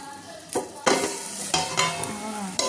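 Sliced karela frying in oil in a pan while being stirred, a steady sizzle broken by several loud scraping stirs close up, with no speech.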